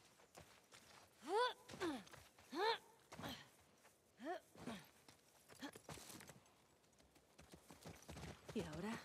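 Horse hooves clip-clop in The Last of Us Part II, a few slow, spaced steps, fairly close and quiet, mixed with faint voices and breathy vocal sounds.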